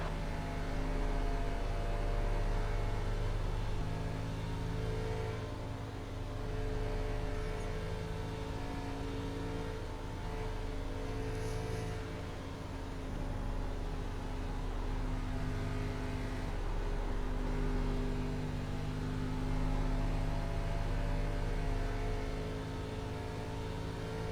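A Chevrolet Impala ARCA Menards race car at speed on Texas Motor Speedway, its engine a steady, loud, close drone with a continuous harmonic roar that barely varies, no talk over it.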